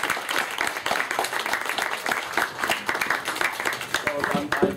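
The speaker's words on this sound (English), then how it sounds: "Let's have a big round of applause for him." An audience at a book signing applauds with dense, steady clapping, close and loud, while a voice speaks over it.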